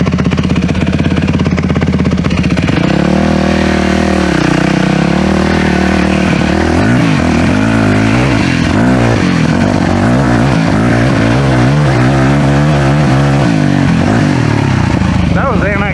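A motorcycle engine that is running poorly idles and revs unevenly up close, its rough, wavering note rising and falling throughout.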